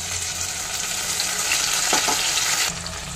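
Potatoes and taro frying in a pan before cumin, ginger and chilli paste goes in, giving a steady, close sizzle with watery hiss that shifts and drops slightly near the end.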